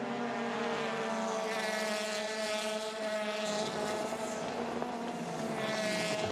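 WTCC touring race cars, a train of Citroens racing at the Hungaroring in 2015, drone past with a loud, sustained high-revving engine roar that shifts in pitch, no talk over it.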